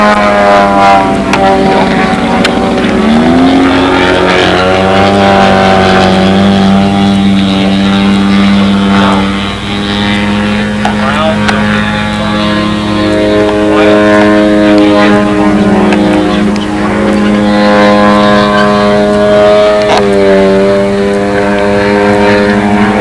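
A model airplane engine at the 2002 NATS buzzes loudly overhead in windy conditions, its pitch rising and falling as the plane sweeps past, with people talking over it.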